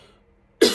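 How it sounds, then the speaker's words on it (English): A single sharp cough from someone getting over a cold, bursting out loud and close after a near-silent pause. "I'm going to cough really quick."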